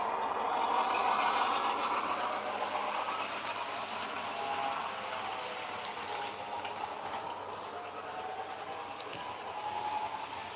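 A model train at a home layout runs along its track and reverses, a steady low mechanical rumble and whir with light clicking from wheels on rails, fairly faint and continuous.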